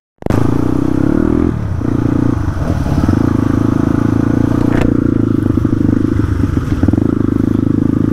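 A Crossfire RM 250 motorcycle engine runs loud and close on a ride toward Chisapani, with a steady rumbling idle, rising revs and clattering mechanical noise throughout.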